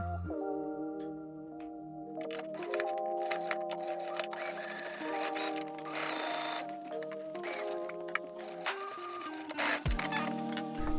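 A sewing machine runs steadily, stitching the shoulder seams of a top's front and back bodice with a narrow seam allowance, its motor humming close with brief changes in pace and a short pause near the end.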